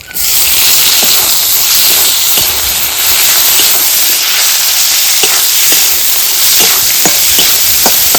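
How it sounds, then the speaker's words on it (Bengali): Chopped tomatoes and water hit a hot frying pan for a spicy chicken liver and stomach dish, giving a loud, steady hiss of sizzling with small crackles and pops throughout, close by and without talk. "টমেটো কুচিগুলো দিয়ে দিচ্ছি"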